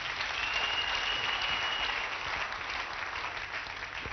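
A church congregation gives a clap offering, with many hands clapping together in a thick, continuous burst. The clapping is loud and close and holds steady for several seconds without anyone speaking.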